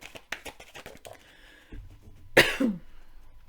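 A woman coughs from allergies: one loud, close, harsh cough burst, followed by a short rasping tail, after a run of faint light taps.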